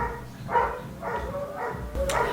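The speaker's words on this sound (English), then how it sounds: "where would I be without the barking?" A dog barks nearby in a home, three or four loud separate woofs spaced about half a second apart, with no talking over them.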